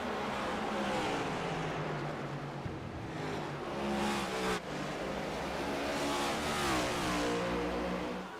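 Race cars roar around Richmond Raceway in the iNASCAR sim racing game, engines droning and revving continuously as cars run in close traffic late in the race, loud and steady throughout with no talk.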